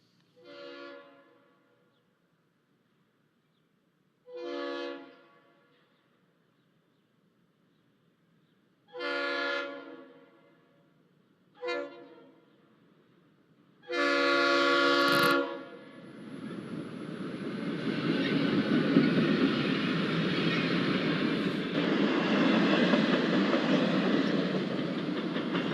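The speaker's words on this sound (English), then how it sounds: "we see a Santa Fe westbound passing the still open station" A Santa Fe westbound train sounds its horn in several separate blasts as it approaches a still-open station in Galesburg in 1995. A last long blast gives way to a loud, sustained rumble as the train passes close by.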